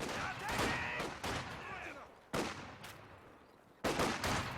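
MG42 machine gun fire in a Company of Heroes 2 match, heard as several loud bursts of rapid gunfire separated by short pauses, with game battle noise between them.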